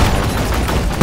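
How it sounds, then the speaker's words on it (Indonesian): A rapid burst of gunfire in the video game Deep Rock Galactic, dense and loud, ending in a sharper blast. "Siapa sih yang nembak?"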